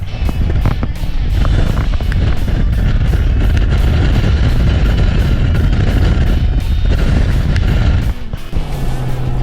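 A 2018 Ram 1500 Laramie and a 2016 Chevy Silverado Z71 pull hard on the highway, heard as a loud, continuous roar of engine and rushing wind buffeting the microphone, with rapid clattering gusts throughout.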